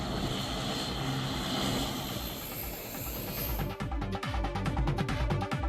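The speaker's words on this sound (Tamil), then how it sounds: "சென்னையிலிருந்து தூத்துக்குடிக்கு வந்த ஸ்பைஸ்ஜெட் விமானத்தை தீயணைப்பு வாகனம் மூலம் தண்ணீர் பீச்சி அடித்து வரவேற்றனர்" A SpiceJet passenger plane arriving at Thoothukudi airport from Chennai, greeted with a fire-truck water spray, roars loudly and steadily with a deep rumbling engine drone that grows more pulsing toward the end.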